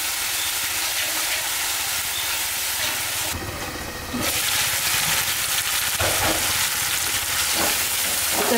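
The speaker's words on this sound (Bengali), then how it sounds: "রসুন বাটা আদা বাটা মশলাটা ভালো করে কষাই নিতে হবে।" Ground garlic and ginger paste with chili powder fries in hot oil, a loud, dense sizzling hiss that dips briefly and surges back as the paste is stirred and scraped around the pan, with no talking.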